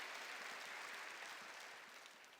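Church congregation applauding together, a dense, steady wash of many hands clapping at moderate distance that slowly tapers toward the end, no voices over it.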